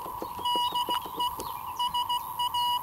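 Morse code call sign SAQ sent from a radio transmitter, a steady tone keyed into short and long beeps in a clear rhythmic sequence over background hiss and crackle.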